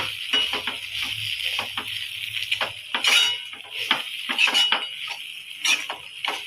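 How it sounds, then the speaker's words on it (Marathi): A utensil gently mixes soaked poha in a pan, producing a continuous run of light scraping and clinking strokes against the metal, close and fairly loud, with no talking. "आता याला छान असं मिक्स करायचं आहे, एकदम हलक्या हाताने,"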